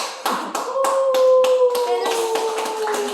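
Applause and clapping from a small audience at a Korean presentation, as a run of distinct, rapid, fairly loud claps close by. A sustained tone drifts underneath.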